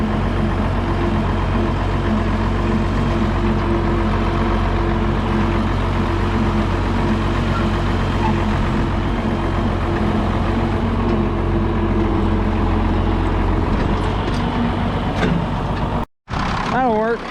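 A tractor engine hauls manure on a farm with a continuous low, steady drone and rumble, close and loud throughout, broken by a brief dropout near the end.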